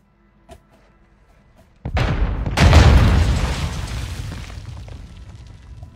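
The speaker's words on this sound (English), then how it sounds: "Was that my cluster bomb going off?" A cluster bomb detonates in Fortnite as a sudden loud booming blast after a faint pop, followed by a long rumbling decay of layered explosions.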